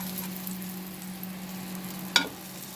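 Butter and egg toast sizzles steadily in a pan, a soft continuous frying hiss with a low hum beneath and one brief sharp clatter near the end.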